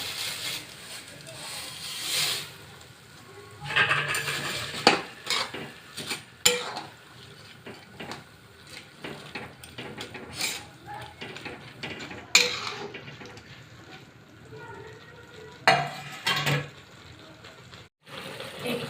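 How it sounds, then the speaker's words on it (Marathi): Vermicelli (shevaya) is stirred into a boiling tempering in a pot while making vermicelli upma. Intermittent clinks and scrapes of a spoon against the pot come in irregular bursts over a quiet, faintly bubbling background. "आता त्याच्यामध्ये आपण शेवया घालून घेऊया"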